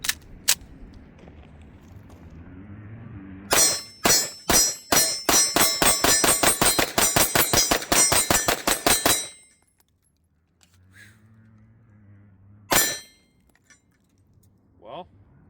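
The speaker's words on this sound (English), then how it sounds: "This is S&B 115 right here that we're shooting." A Zermatt Arms Waltz 9 pistol fires S&B 115 grain rounds in a rapid string of about two dozen sharp, loud cracks, then a pause and one last shot, with faint voices in the background.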